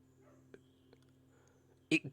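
A pet dog barks in a Planet Zoo park, a quick double bark arriving near the end after a stretch of faint ambient sounds and a few soft taps, fairly close and clear.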